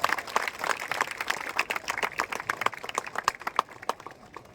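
An outdoor audience claps steadily for several seconds to welcome the district election ambassador onto the stage at a marathon event, a moderate, somewhat distant applause.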